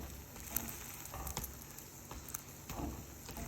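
An egg fries in a pan with a faint, steady sizzle and crackle, broken by a few soft taps as it is pressed down.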